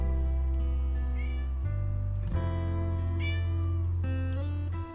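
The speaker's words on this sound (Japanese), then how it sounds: "猫が寄ってきた。 人懐っこい猫だな。" A cat meows twice in the visual novel game Summer Pockets, bright close mews rising over steady background music that continues throughout.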